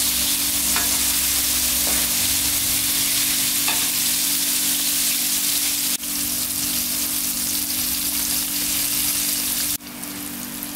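Red tilapia deep-fries in oil with a loud, steady sizzle, shifting abruptly a couple of times as the fish is turned.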